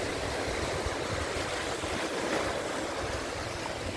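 Sea waves near a port where a small stream meets the sea, a steady wash of surf blended with wind noise, continuous and fairly even throughout.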